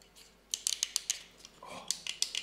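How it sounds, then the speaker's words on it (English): Solid, clicky buttons on the bottom of a retro electronic device found in Italy, pressed in a quick run of sharp, close clicks with brief pauses, faint and alone. "Oh, very solid clicky buttons at the bottom."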